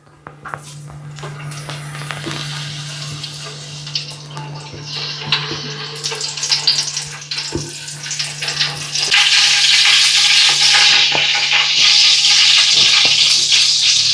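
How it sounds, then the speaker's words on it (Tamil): Oil heating in a pot for prawn biryani, starting as a quiet bubbling over a low hum, then swelling into a loud, continuous hissing sizzle during the second half. "இப்போ எண்ணெயை விடுவோம்"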